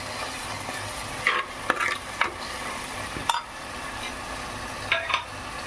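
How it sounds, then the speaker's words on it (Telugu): Cumin, coriander seeds, fenugreek, mustard seeds and garlic frying in hot oil for a fish gravy, giving a loud continuous sizzle with a few sharp clinks of stirring scattered through it. "జీలకర్ర, ధనియాలు, మెంతులు, ఆవాలు, వెల్లుల్లి కొంచెం ఇందులో వేసి వేగనిద్దాము"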